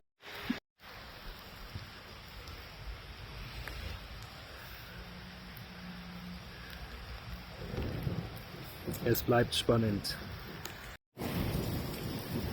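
Steady rain patters outdoors at a campsite during an attempt to light a fire, with a low rumble of thunder and some splashy drips; a person speaks briefly over the wet background.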